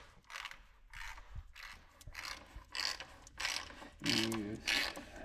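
A bolt is unthreaded from a John Deere B tractor during disassembly for restoration, making a run of repeated ratcheting clicks in short bursts, close and moderately loud.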